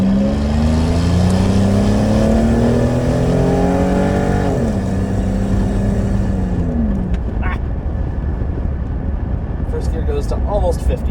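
The 3800 engine of a 1996 Buick Regal climbs steadily in pitch under hard acceleration, with a couple of upshifts that drop the revs. It is heard from inside the car, loud and continuous.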